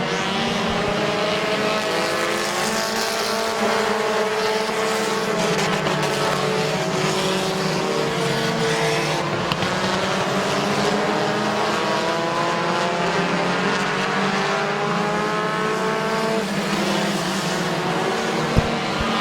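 Race cars roar down the back straightaway at a speedway, engines close together in a continuous loud drone whose rising and falling harmonics show the cars passing, with no talk.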